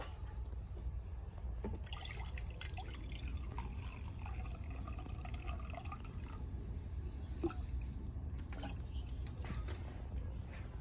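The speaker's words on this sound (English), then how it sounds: "Then fill the container with vinegar." Vinegar poured into a container over an egg for a bouncy-egg experiment, a steady close trickle of liquid with scattered drips running the whole time.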